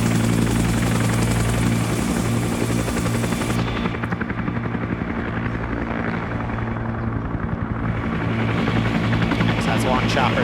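Huey helicopter in a Vietnam-era SOG rescue video game, its rotor thumping and turbine droning loudly and continuously at close range, a steady heavy chop filling the whole stretch.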